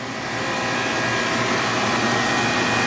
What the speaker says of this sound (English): our Taylor 794 just churns out beautiful creamy product right there